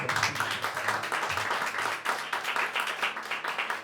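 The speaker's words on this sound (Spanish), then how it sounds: "¿Cuántos le dan un fuerte aplauso?" Steady applause from a church congregation, dense clapping that carries on at an even level throughout.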